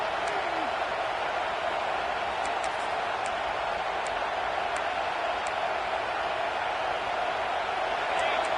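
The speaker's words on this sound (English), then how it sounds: "Listen to this crowd just shaking the girders of this place, trying to help their defense." A steady, roaring crowd at a Michigan vs Oklahoma college football game fills the whole stretch with dense, continuous noise, holding a constant level without breaks.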